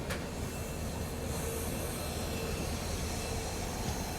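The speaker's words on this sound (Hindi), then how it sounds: "ओह, डीजल लोकोमोटिव के भी दर्शन हो गए। शंटिंग कर रहा है मेरे ख्याल से ये।" A diesel locomotive shunting near a railway bypass cabin, with a power plant in view, gives a faint, continuous rail hiss and rumble heard from a distance, with no voices.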